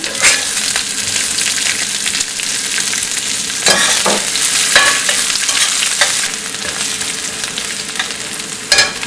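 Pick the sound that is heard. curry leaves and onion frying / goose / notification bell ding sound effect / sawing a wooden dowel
curry leaves and onion frying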